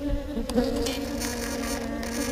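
Honey bees buzz steadily around an open beehive frame during beginner beekeeping in Texas, a close, continuous droning hum with no talking.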